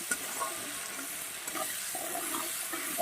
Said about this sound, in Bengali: মাছটা একটু ভাজা হতে থাকুক